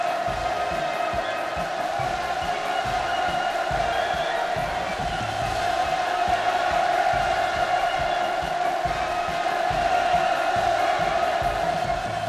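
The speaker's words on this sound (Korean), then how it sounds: "하늘 땅을 칭감하는 열광의 환호성이" A huge crowd cheers and roars without a break at a housing completion ceremony for 10,000 flats in the second stage of the Hwasong district. The loud mass cheering holds steady for the whole stretch.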